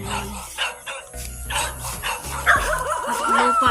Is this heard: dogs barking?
yes